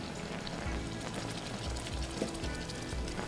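Caramel sizzles and bubbles in a pan after spiced rum goes in, a steady hissing crackle with soft popping, quiet and close throughout.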